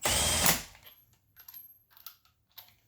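A cordless power tool spins wheel fasteners on a brake and wheel job for about half a second before cutting out on its own at resistance, followed by a few faint clicks and handling taps.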